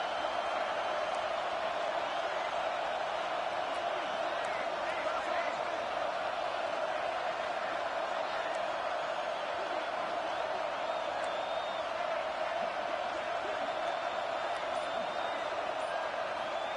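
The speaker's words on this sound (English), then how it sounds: "The roar of the crowd trying to fuel this defense to keep them pinned in their own end." A stadium crowd in the College Football 26 video game keeps up a steady, broad roar through the whole stretch, with scattered whoops rising out of the wash of noise.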